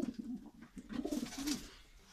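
Pigeons cooing nearby, a series of low throaty rolling coos repeating in quick succession, close and clear with no talk over them.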